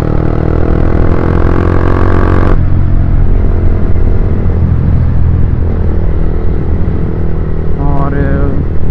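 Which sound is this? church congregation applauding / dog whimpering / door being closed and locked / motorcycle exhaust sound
motorcycle exhaust sound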